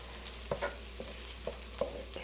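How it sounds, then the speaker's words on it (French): Garlic and onions sautéing in a hot wok, soft steady sizzle broken by several sharp stirring scrapes and clacks of a utensil at irregular intervals, close and fairly quiet with no talk. "Quand mes oignons commencent à être un petit peu transparents, je vais mettre mon ail. Je vais la faire revenir un petit peu."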